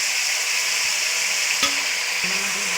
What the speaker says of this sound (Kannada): ತರಕಾರಿ ಚೆನ್ನಾಗಿ ಫ್ರೈ ಆಗೈತಿ